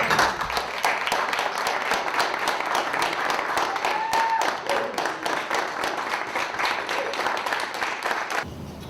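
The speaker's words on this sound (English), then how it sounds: "I'd just like to have a round of applause for the tremendous" An audience at an award ceremony claps steadily and densely for several seconds, the applause holding strong before cutting off near the end.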